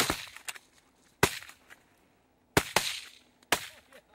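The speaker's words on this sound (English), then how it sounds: "Shoot him, boys." Several shotgun blasts during a hunt, sharp loud reports in a loose sequence of five or six over a few seconds, outdoors with echoing tails.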